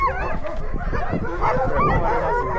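A pack of sled huskies yelps, whines and barks excitedly in a snowy Svalbard yard before a run, a dense, loud and continuous chorus with many overlapping dogs.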